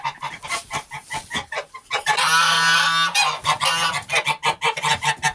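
Geese on a poultry farm honk loudly and close by, first in short, rhythmic bursts, then in a sustained raucous chorus, then in choppy calls again.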